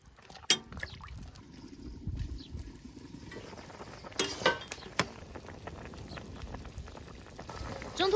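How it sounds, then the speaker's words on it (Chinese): Beef bones and ribs in a pot of spring water with rock sugar and salt bubble at a boil, giving an irregular soft burble broken by a few sharp clinks and louder gurgling bursts. "大火烧开，中小火煮个四五十分钟"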